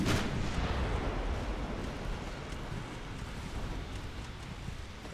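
Torpedo detonation in the naval warfare game Ultimate Admiral Dreadnoughts: a sharp distant boom at the start, then a long rumbling wash of noise that slowly fades, muffled and fairly quiet.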